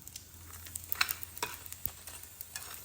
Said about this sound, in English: Mark, you're still frying.